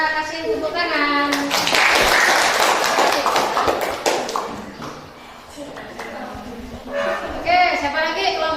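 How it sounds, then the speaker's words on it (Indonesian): Classroom students applaud a group's presentation, a dense burst of many hands clapping for about three seconds that fades out, with a teacher's voice before and after. "kasih tepuk tangan."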